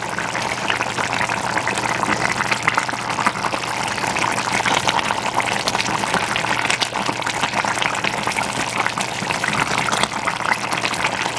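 Napa cabbage simmering under a lid in a covered pot, releasing its own liquid with no water added, gives a steady bubbling, sizzling hiss that stays continuous and fairly loud throughout.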